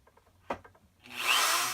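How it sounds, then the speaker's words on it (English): A tiny drill bit on a power drill bores through aluminum. A single tap comes first, then the drill starts and gives a loud, steady, high whine through to the end. "So I have this tiny drill bit, just go right through"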